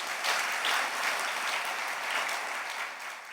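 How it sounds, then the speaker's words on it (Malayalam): A church congregation claps together in praise during a sermon, a continuous wash of hand claps heard at a moderate distance and fairly soft, holding steady before tapering slightly at the end. "ഒന്ന് കൈയടിച്ച് കർത്താവിനെ മഹത്വപ്പെടുത്തുക."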